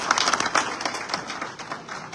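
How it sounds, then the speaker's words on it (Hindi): Applause welcoming Hamid bhai at a live BJP state headquarters event in Jaipur: a dense, steady patter of many hands clapping, moderately loud and fairly close, lasting the whole stretch without spoken voices. "हामिद भाई के लिए जोरदार तालियों से उनका स्वागत है"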